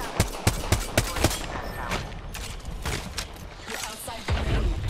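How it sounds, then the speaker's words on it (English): Gunfire in Apex Legends: a burst of sharp, rapid shots in the first second and a half, then sporadic loud cracks and ongoing battle noise, with faint voice chatter beneath. "Taking fire."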